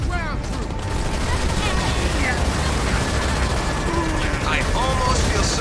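Halo Wars 2 battle gunfire, dense rapid bursts and explosions layered over one another, loud and continuous, with voices mixed into the din.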